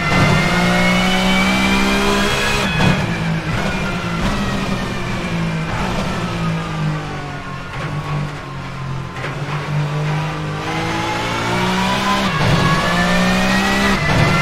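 Front-wheel-drive touring car engine in Assetto Corsa revving hard and steady, with harmonics rising and falling through gear changes on a lap, loud and continuous without talk.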